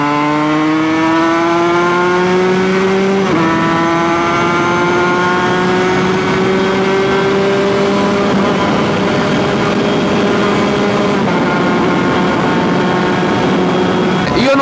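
Two-stroke motorcycle engine running loud and steady, shifting up through gears without the clutch, the pitch climbing then dropping sharply at each clutchless shift, continuous and close.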